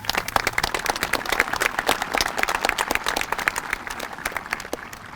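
A graduation audience applauds with dense, sharp clapping at full strength, an energetic round of hand claps that tapers slightly toward the end.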